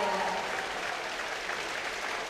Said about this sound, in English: cheering her from the sideline